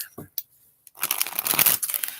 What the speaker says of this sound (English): let me get some shuffles on this deck.